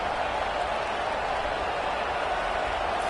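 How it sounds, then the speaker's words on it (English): A packed stadium crowd at a Tennessee versus Missouri college football game in overtime roars in a steady, unbroken wall of cheering and noise, loud and constant with no individual voices standing out. "here comes the noise. This crowd is trying to inspire this defense to make a big red zone stop"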